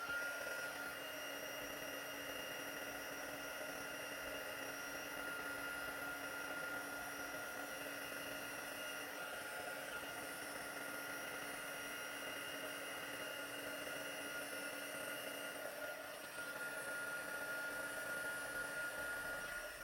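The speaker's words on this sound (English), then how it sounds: "I'm just going to use my heat tool to melt the embossing powder" Heat tool melting embossing powder on card, a constant close whirring blower hum with a steady high whine, droning evenly for the whole stretch.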